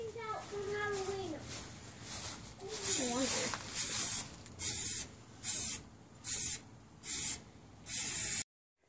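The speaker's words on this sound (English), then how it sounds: "We're gonna spray paint. We're gonna primer the car now." Primer spray paint hisses from a can onto a McLaren P1-styled pinewood derby car in five or six short, evenly spaced bursts, close and crisp, after someone speaks briefly.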